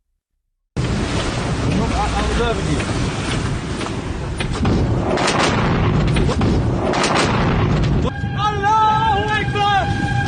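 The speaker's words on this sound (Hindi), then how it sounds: "अमेरिकी तेल जहाज को जिस ढंग से उड़ाया गया" An American oil tanker is blown up at sea, giving a loud, continuous barrage of booming explosions and rumbling blasts with wind noise, while voices shout over the din.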